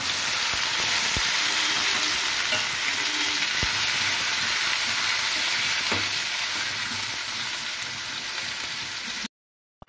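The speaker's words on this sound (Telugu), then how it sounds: "ఇప్పుడు టమాటా ముక్కలు ఇందులో వేసేద్దాం." Tomato pieces for a tomato cashew curry fry in a hot pan, giving a steady loud sizzle and hiss that is close and continuous, with a few faint clicks, before cutting to silence near the end.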